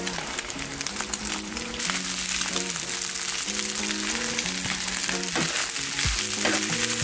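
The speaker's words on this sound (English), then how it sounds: "Stir your rice in. Break up any large chunks of rice." Rice frying for Spam fried rice sizzles steadily and loudly in a hot pan, growing denser partway through, with scraping stirs while background music plays with tonal notes.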